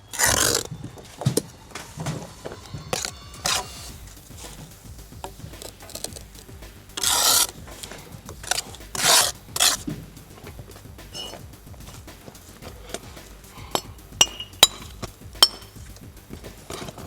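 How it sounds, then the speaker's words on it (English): A trowel clears wet mortar from beneath freshly laid brickwork, giving scattered short scrapes and taps, some louder swipes among quieter scratching, close by and without speech. "Now I'm going to clear the mortar from underneath."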